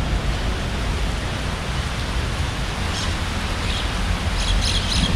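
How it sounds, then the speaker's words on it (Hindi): Steady rain pours continuously in the early morning near the Qutub Minar in Delhi, a dense even hiss with a few faint bird chirps toward the end. "लेकिन सुबह से बारिश हो रही है।"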